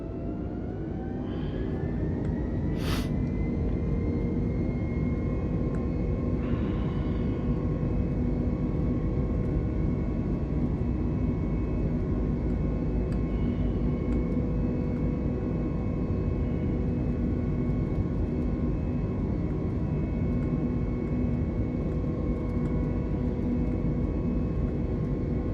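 Airliner engines spool up for takeoff in Microsoft Flight Simulator, a loud continuous jet roar and rumble with rising whining tones that hold steady throughout.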